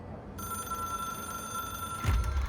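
A hotline telephone in the video game Control rings with a bright, sustained electronic bell tone that starts abruptly and holds steady, then gives way to a louder low rumble near the end.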